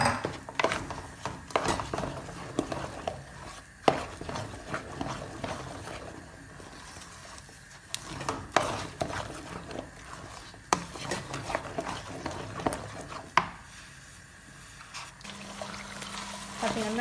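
A spoon stirs thick, sticky thothal mixture in a pan, producing soft irregular scraping and sloshing with occasional sharper knocks, continuing steadily at close range beneath a talking voice.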